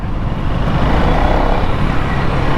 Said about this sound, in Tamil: டிராஃபிக் சரியான டிராஃபிக்கு.